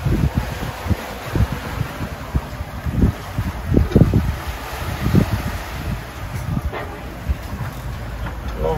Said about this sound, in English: At long last, the wind has settled down to be a little more reliable.